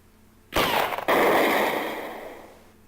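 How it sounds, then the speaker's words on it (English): A loud burst of gunfire erupts in the video game Snatcher, a sharp onset with a brief break, then a sustained blast that slowly fades over a couple of seconds, no voices. "I'm just shooting randomly here, dude."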